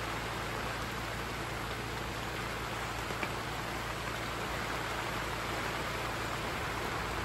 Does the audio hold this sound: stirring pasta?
no